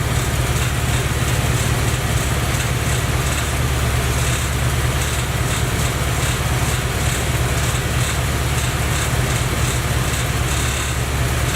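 Honda K20 engine in an EK chassis idling with the air conditioning running, a steady low drone with a constant hum and a faint hiss of compressor and fan, unchanging throughout with no talk.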